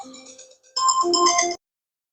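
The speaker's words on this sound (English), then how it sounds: "sorry, the phone is just ringing up nonstop" A phone in a workshop plays a melodic ringtone, a soft tone followed by a louder burst of bright chiming notes that stops abruptly, leaving silence.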